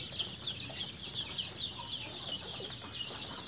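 Soft clucking from several Indian native chickens and chicks on a farm, continuous and fairly close, over a faint background hiss.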